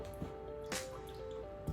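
Water dripping onto a soaked 1000-grit knife sharpening whetstone: a few soft, isolated wet drips and splats over a quiet background hum.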